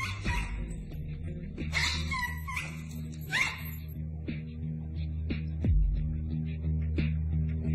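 A dog yips and barks in short bursts, with whimpering between them, close by over a steady low background hum.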